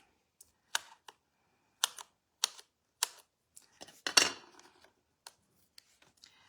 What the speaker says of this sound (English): Let's cut around the edge.